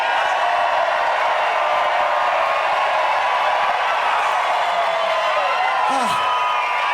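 Huge outdoor festival crowd of thousands at Telluride Bluegrass Festival in a high-altitude Colorado field, a steady dense roar of cheering, whoops and clapping throughout, with one brief rising whoop near the end.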